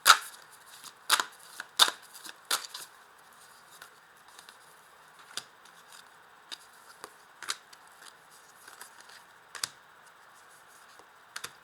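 Oracle cards being turned over and handled on a table, a series of soft, brief papery flicks and taps, sharper at the start and then sparser and quieter, with no talking.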